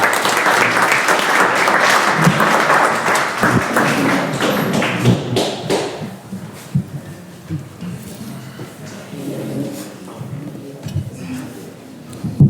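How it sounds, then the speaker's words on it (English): Audience applause at a Preston County, West Virginia school board meeting, honoring a group of ladies: sustained loud clapping from a crowd with scattered sharp taps, fading slightly in the second half and continuing unevenly to the end. "let's give these ladies a round of applause"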